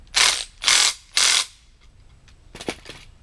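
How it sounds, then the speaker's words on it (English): A ratchet wrench tightens nuts while building an anvil stand: three loud, rapid bursts of metallic clicking, followed by a few quieter scattered clicks and knocks nearby. "with a wrench hold the bottom one, and another wrench or ratchet"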